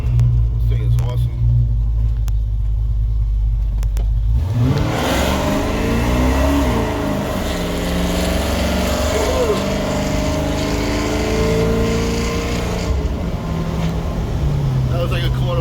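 A 1984 Chevrolet C10 pickup with a 383 stroker V8 accelerates hard on a back road, starting with a steady low idle rumble before the engine climbs into a loud, rising roar with rapid revs, heard from inside the cab with voices talking over it.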